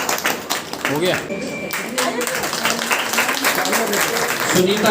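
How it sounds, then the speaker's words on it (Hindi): Audience applause at a women's honour award ceremony, steady clapping running throughout under a speaking voice. "मनु जी के लिए ज़्यादा ताली बजाइए"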